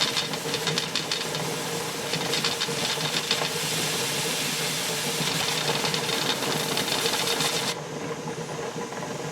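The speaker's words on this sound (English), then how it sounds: "You got a pretty good amount of steam coming out over here." Steam hisses steadily and loudly from the vent of a pressure canner processing raw-pack venison, a broad continuous rush with faint rattling, dropping slightly near the end.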